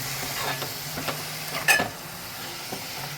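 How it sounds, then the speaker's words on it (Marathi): Finely chopped mushrooms are sautéed in a pan for a mushroom masala: a low, steady sizzle with a few soft stirring scrapes and one brief louder clatter midway, close and quiet. "आता मी हे छान असे परतून घेते"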